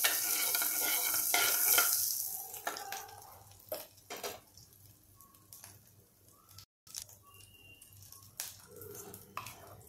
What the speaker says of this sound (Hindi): हमारा जीरा चटक रहा है।